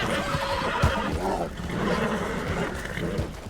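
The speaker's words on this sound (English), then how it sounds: "I mean, he was Silas's horse first." A horse whinnies and snorts in the Western video game Red Dead Redemption 2, heard close and fairly loud with a short rough neigh and breathy sounds, without talk.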